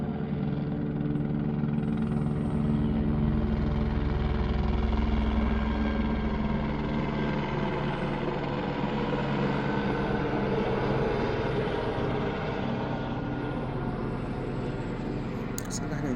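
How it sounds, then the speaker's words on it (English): A police helicopter hovers low over a suburban neighborhood, its rotor and engine giving a steady, close drone that holds at a similar level throughout. "Yep, police helicopter."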